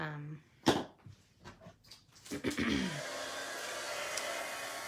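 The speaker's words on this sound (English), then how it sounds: "Now this is a heat tool." Heat embossing tool, hair-dryer-like, switching on after brief talk and blowing a steady whooshing hiss close by while heating embossing powder on a scrapbooking card.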